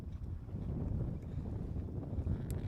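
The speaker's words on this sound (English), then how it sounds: "Wind's actually pushing us upriver against the current." Wind buffets the microphone on a fishing boat out on a backwater river, a low continuous rumbling gust that swells and eases without pause, close and fairly loud, with no voices.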